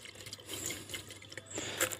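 Water-soluble fertilizer dissolved in water and shaken in a spray bottle: close, brief sloshing of liquid with small plastic rattles and clicks, no voices.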